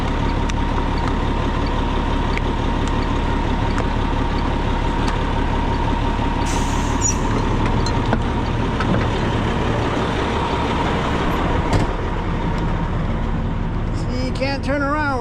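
Trucks idle and rumble nearby in a low, steady engine drone that stays loud throughout, with a hiss of air brakes partway through and a voice talking over the noise.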